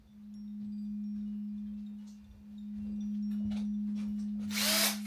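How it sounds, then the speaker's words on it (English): A power drill runs steadily with a loud, constant motor whine that dips briefly midway and then resumes, ending with a burst of noisy rattling. "I'll get the drill."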